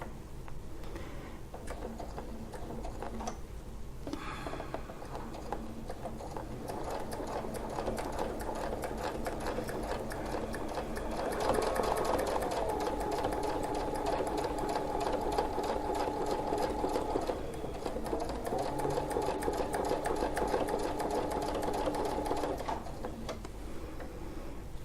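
A sewing machine stitches a quilted wreath pattern along a template, running in a fast, steady mechanical whir and clatter for the whole stretch, with brief pauses and speed changes partway through.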